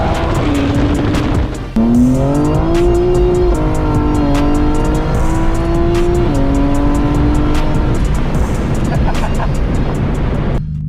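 A BMW M4 Competition engine revs loud and close, rising and falling through gear changes with a brief lift near the start, then pulling hard continuously.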